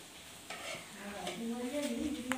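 Vadi pieces roast in a pan with a soft, steady sizzle and light scraping stirs, close by and fairly quiet.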